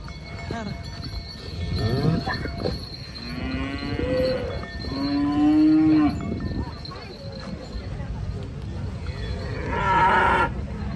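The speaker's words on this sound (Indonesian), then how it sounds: "Sapi unik turun dari truk." Cattle at a cattle contest in Banyuwangi moo repeatedly while being unloaded from a truck, several long drawn-out lowing calls close by with rustling and background noise between them.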